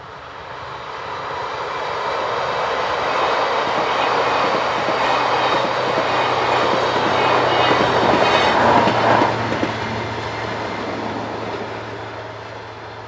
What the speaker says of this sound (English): Our final scene shows 2016062 leaving the station at Tachern St. Margueriten with a commuter service for Viering.